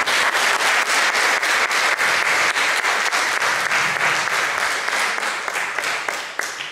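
Sustained applause from an audience at a village festival literary gathering in Villaverde de Guadalimar, thick and steady for several seconds with a few distinct claps near the end.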